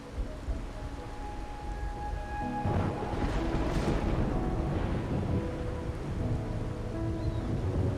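Steady rain pours across a stormy scene in the video game Wuthering Waves, a dense continuous hiss with low rumbling that swells partway through, heard alone without voices.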